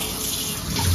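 Dishes being washed under a steadily running tap, a loud, close and continuous gush of water filling a sink with no voices.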